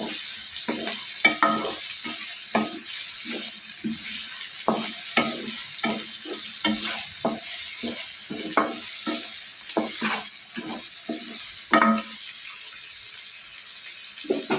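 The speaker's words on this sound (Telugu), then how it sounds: "మొత్తం అంతా బాగా కలిసేలాగా కలుపుకోవాలి" Cashews and drumsticks in a masala curry are stirred through a hot frying pan, with a steady sizzle broken by repeated scraping strokes of a spoon against the pan.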